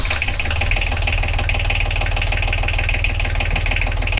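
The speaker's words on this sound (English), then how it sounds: "I'm sitting on the starboard engine right now, just checked all the fluids, everything looks great, belts look good, I don't see any wear, and I fired this engine up again" A boat's starboard inboard engine idles below deck, a loud, steady, close-up drone with a fast, even mechanical ticking throughout and no speech.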